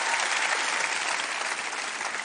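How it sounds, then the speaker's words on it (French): Dense, loud audience applause in a TV studio, a continuous wash of clapping from a large crowd throughout. "On peut les applaudir, mesdames, messieurs."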